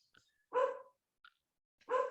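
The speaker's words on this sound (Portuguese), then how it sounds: "eu tô com um cachorro latindo aqui" A small female dog barks indoors at night, two sharp, loud barks spaced apart with faint yips between them and no talk.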